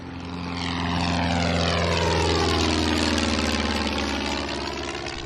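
A small propeller airplane doing touch-and-go practice flies past. Its steady engine drone swells as it approaches, sweeps downward in pitch as it passes close by, then slowly fades, with no voices.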